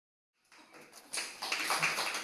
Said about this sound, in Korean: 왜 박수들을 치고 난리야?